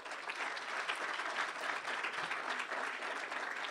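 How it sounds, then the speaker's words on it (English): Audience applause for the judges at an entrepreneurship awards ceremony, a dense, even patter of many hands clapping continuously, heard from within the hall. "can I just ask for a round of applause for our judges"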